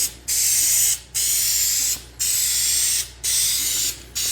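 A spray can lays a second coat of paint onto a car bumper on a 2015 Toyota in four steady bursts of hiss, each about a second long with short gaps between, close and fairly loud.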